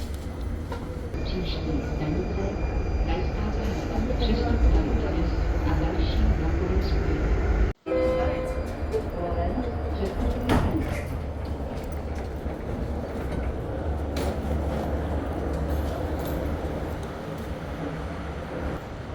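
A passenger train in the Czech Republic rumbling along with a continuous wheel-on-rail roar and faint clatter, one sharp brief thump and break partway through, with people talking over the train noise.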